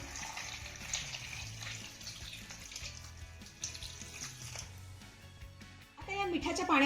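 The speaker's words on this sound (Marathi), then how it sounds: "त्यानंतर यामध्ये आपल्याला भरपूर असं पाणी घालायचं आहे" Water is poured generously into a large bowl of salted lemons, a faint, steady splashing pour that runs for several seconds.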